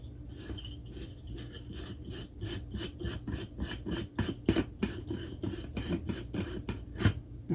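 Pool pump impeller being turned and unscrewed off the motor rotor during a bearing-failure repair, a close series of rhythmic rubbing, grinding rasps of plastic and metal, repeated turn after turn.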